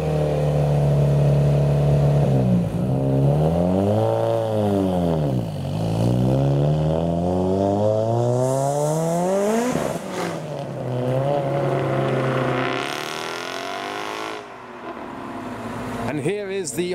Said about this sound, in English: So the Evo is rolling out, sounding really nice.